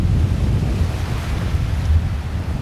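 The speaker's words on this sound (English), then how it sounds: "Look how windy it is." Strong wind buffets the microphone on a Gulf of Mexico beach at Caladesi Island, Florida, a steady low roaring rumble with gusty swells, with surf likely mixed in and no voices.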